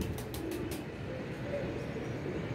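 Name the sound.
pigeons cooing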